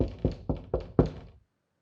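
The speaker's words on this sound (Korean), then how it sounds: "그 순간 밖에서 조그마한 노크 소리가 들렸다." Five soft knocks on a door, evenly spaced about a quarter second apart, close and fairly quiet, then silence.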